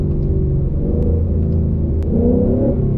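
A 10-speed Ford Mustang accelerating hard in second gear from a 40 mph roll with traction control off, its engine a loud, steady, close rumbling roar that climbs in pitch throughout, heard from inside the car.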